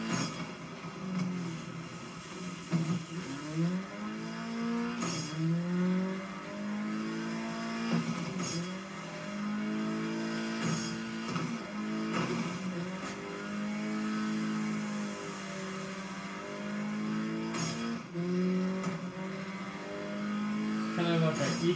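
A race car engine in the off-road racing game Dirt 5 revs and climbs through gears repeatedly, loud rising and falling whines with shifts, on a snowy wonderland playground course, with someone occasionally talking over it.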